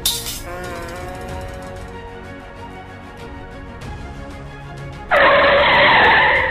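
A car in the Free Fire video game skids with screeching tires, a loud burst of squealing noise that erupts suddenly after a stretch of quieter game music and effects.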